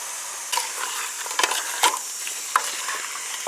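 Seasoned stew beef with salt and black pepper being stirred in a pot, a few scraping clacks and light sizzling textures over a steady background, close and unaccompanied by talk.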